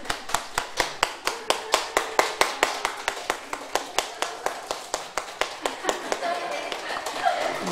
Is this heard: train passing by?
no